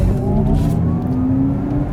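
An Audi car accelerates at full throttle, its engine note climbing steadily in pitch over a couple of seconds, loud and close with road rumble underneath.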